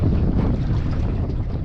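Strong wind buffets the microphone while a fishing longline is checked on open water, a loud, continuous low roar and rumble with no pause over the short stretch.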